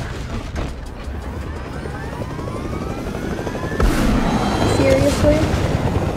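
A helicopter in a video game, with a droning rotor and engine hum under gunfire-like bursts that grows louder partway through, while a voice speaks briefly.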